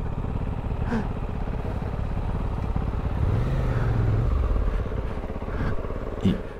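Off-road riding on a KTM 450 enduro/rally motorcycle, its engine a steady, loud, close-up drone through the whole stretch, with a brief rise in pitch near the end and no talk.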